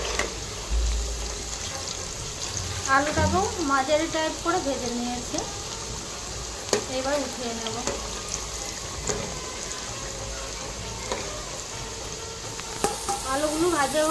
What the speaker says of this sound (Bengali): একই পদ্ধতিতে আলুগুলোকে ভেজে নেব